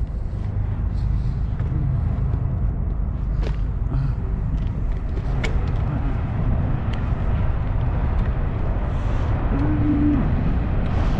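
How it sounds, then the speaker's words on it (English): Steady low rumble of a passing train near Bellamy Park in Rome, New York, loud and continuous throughout, with faint outdoor background noise. "Here comes the train."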